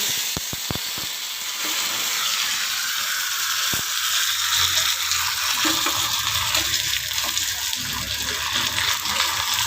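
Mustard seeds, cumin and pepper sizzle in hot oil, a steady crackling hiss with several sharp pops and clicks near the start, close and continuous.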